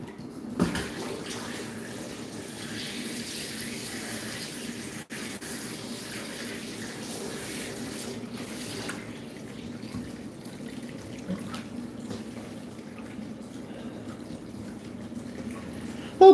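A bathtub fills with hot water from the tap, a steady moderate gush of running water that goes on without break, no voices.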